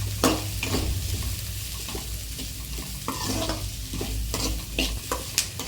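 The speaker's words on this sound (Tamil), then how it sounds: "வதக்கி விட்டுக்கலாம்." Onions and spices sautéing in a pan for a tomato-free chana masala gravy, with a steady sizzle broken by repeated scraping stirs of a spoon, close and fairly loud, no talking.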